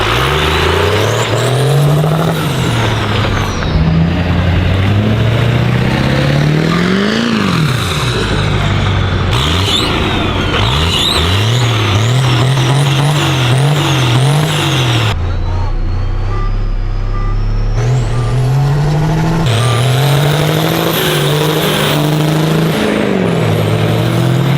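A 1000HP Cummins-powered Ford Ranger races, its diesel engine roaring loud and close throughout, rising and falling through repeated revs and gear changes under continuous heavy noise.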